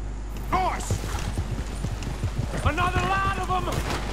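Rhythmic hoofbeats of a galloping horse in the video game Red Dead Redemption 2 thud steadily, with shouting voices over them and a brief whinny-like cry midway.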